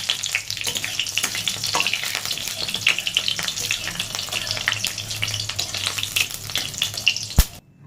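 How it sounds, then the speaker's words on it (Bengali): Cumin seeds, dried red chillies and bay leaves crackle and sizzle in hot oil for a potol-prawn curry, a dense steady fry with scattered pops that stops abruptly near the end; no one speaks. "তেলটা গরম হয়ে গেছে এবারে জিরে ফোড়ন দিয়ে নিচ্ছি আর দিয়ে নেবো শুকনো লঙ্কা আর তেজপাতা"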